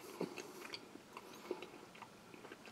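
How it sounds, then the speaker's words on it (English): Dark 65% chocolate from a French army 24-hour Commando combat ration being chewed close to the mic, soft quiet crunches and bites at irregular intervals, no talking. "As you chew, it dissolves in the mouth, coats the tongue, coats the mouth."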